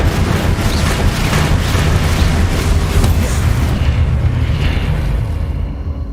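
A fiery burst from the Incendio fire spell in Hogwarts Legacy gives a loud, rumbling whoosh that holds steady for several seconds, then fades out toward the end.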